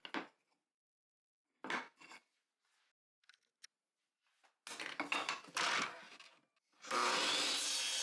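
Short, rasping strokes of a hand saw cutting wood at a 20-degree angle for a DIY tabletop Christmas tree, coming in separate quiet bursts with pauses between them and a longer, stronger run of strokes at the end.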